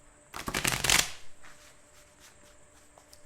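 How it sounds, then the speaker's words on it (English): A quick riffle of tarot cards being shuffled, a brief burst of crisp flapping followed by a few faint taps, close up. "One more shake and a shuffle"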